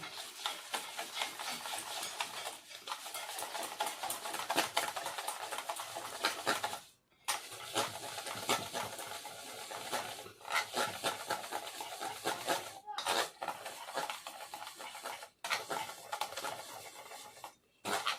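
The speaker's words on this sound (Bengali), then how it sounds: "দিয়ে ভালোভাবে ফেটিয়ে নেব" Semolina batter with salt being beaten hard in a bowl for sweet rasbora pitha, a fast, steady scraping and pattering that runs almost without pause, breaking off briefly a few times before resuming close by.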